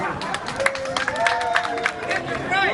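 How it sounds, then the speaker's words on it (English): A crowd at a lively gathering claps along, brief hand claps rising over chatter and shouts, with a voice or tones weaving through the steady clatter. "And everybody clap your hands."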